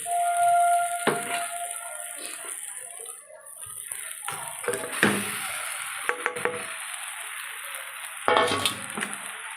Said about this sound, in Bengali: এবার আমি সাবুটা ঢেলে দেবো এর ভেতরে।